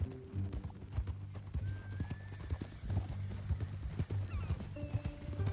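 Horse hooves clip-clop steadily in Red Dead Redemption 2, with a whinny rising over the rhythmic footfalls against low ambient game music and background tones.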